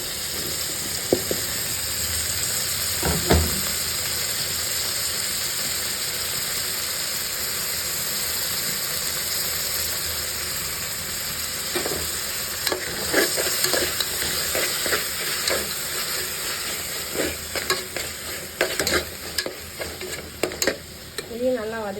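Onions sautéing in a pan, giving a continuous loud sizzling hiss throughout, with irregular spatula stirring clatter growing busier toward the end.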